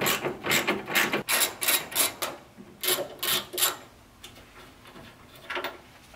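A ratcheting wrench loosens a bolt on a Nissan Xterra headlight housing, giving bursts of quick, close clicks in short runs with pauses between them.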